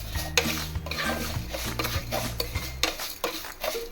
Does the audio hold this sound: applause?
no